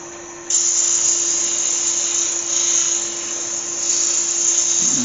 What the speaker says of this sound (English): I'm going to put a sanding pad in there for native grit.